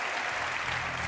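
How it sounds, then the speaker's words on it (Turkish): A television studio audience on a Turkish talk show gives a burst of dense, even applause, heard alone at a moderate level for about a second. "Gel konuklarımıza da toplu bir alkış alalım."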